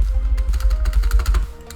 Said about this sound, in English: if you can hear I'm clicking space